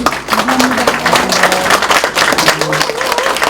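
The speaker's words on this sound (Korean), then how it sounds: "박수 좀" Applause from a lecture audience at a Jeonnam Culture and Arts Foundation staff talk with director Im Kwon-taek, a dense patter of clapping mixed with voices and murmuring throughout.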